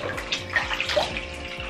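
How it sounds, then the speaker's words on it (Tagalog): Cold water running from a tap into a basin, a close, splashy trickle with gurgling bubbles, continuous and moderately loud with no talking. "ang lamig ng tubig"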